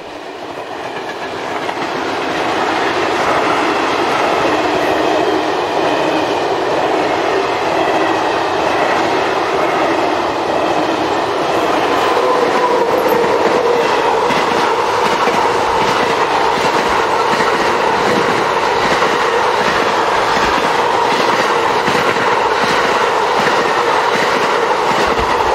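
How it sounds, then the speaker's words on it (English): Electric locomotives haul a container freight train past, a loud sustained rolling roar with rhythmic clickety-clack of wheels over rail joints that continues steadily throughout. "number 1207 is seen on a service from Saumur Yard near Lille, passes number 2612 and 2629 on a container train for Zeebrugge"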